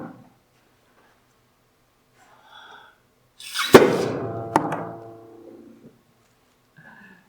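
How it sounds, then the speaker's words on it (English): A grain bin dust explosion demonstration in a classroom chemistry lesson, shown as powdery dust igniting: a sharp loud whoosh bursts out and crackles as it fades over a couple of seconds, with a second sharp pop partway through and quiet before and after. "This is called the grain bin explosion."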